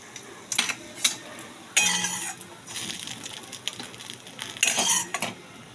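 Fried kulekhara leaf fritters being lifted from a pan into a bowl: a string of scattered metallic clinks and scrapes of utensil against pan and dish, with a faint sizzle underneath.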